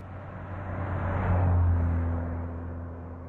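A car drives steadily with a low engine hum that swells slightly midway, then settles, heard close from inside the vehicle with no talking.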